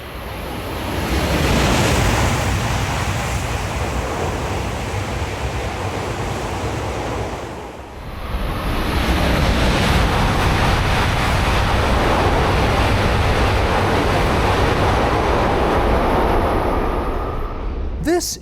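Steady broadband roar of a Shinkansen Hayabusa bullet train cruising at about 170 mph, heard from inside the cabin, with a brief dip partway through before the loud rushing noise resumes.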